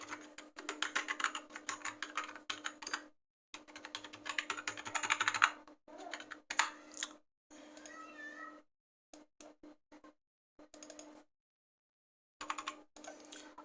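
Quick bursts of clicky keystrokes on a computer keyboard as numbers are entered into an Excel spreadsheet, coming in several runs broken by short pauses, with a cat meowing faintly partway through and no talking.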